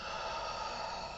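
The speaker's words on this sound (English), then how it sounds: "And as I breathe out" A slow, steady exhale during a calm breathing and movement practice, a continuous soft airy breath heard close and alone.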